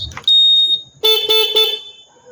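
A Honda Dream Yuga motorcycle horn is tested after a battery power and wiring fault is repaired: a thin high tone, then one loud, buzzy, close horn blast lasting about half a second, with no talking.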